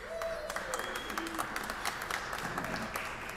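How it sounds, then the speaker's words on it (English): An audience applauds at a Fort Worth neighborhood awards ceremony, a steady patter of scattered clapping from a moderate-sized crowd, heard at middle distance with voices mixed in. "feel free to applaud, don't wait on me"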